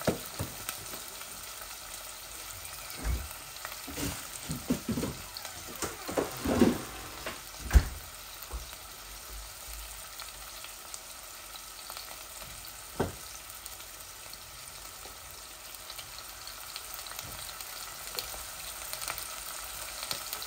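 Onions frying in a pan for a meat and potato curry, a soft continuous sizzle at close range with occasional clatters and a sharp knock of utensils, no voices.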